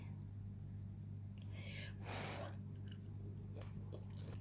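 Someone chewing deep-fried squid (sotong goreng) dipped in chili sauce, close to the mic, with soft crunchy bites over a steady low hum and no talk.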